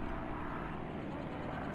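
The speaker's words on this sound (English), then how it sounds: "Oh, there's some planes going by." Propeller planes drone past in the Plane Mechanic Simulator game, a steady low engine rumble that holds at even loudness throughout, with a voice speaking over it.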